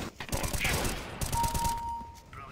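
Rapid automatic gunfire sprays in a CS:GO aim training map, a dense burst of close, loud shots with a brief pause partway, a voice talking underneath.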